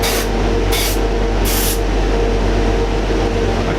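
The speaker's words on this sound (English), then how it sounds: "a nice big heavy coat, one pass rather than a light one" An airbrush lays a heavy single-pass coat of paint onto a Revell 1/48 Tornado scale model, giving a loud, continuous close-up hiss that holds steady throughout.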